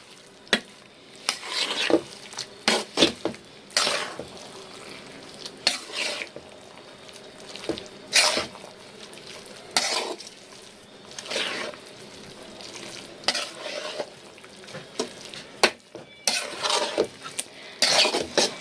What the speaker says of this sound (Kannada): ನೋಡಿ 8 ಮೊಟ್ಟೆ ಹಾಕಿದ್ದೀನಿ. ಇವಾಗ ಚೆನ್ನಾಗಿ ಮಿಕ್ಸ್ ಮಾಡಬೇಕು.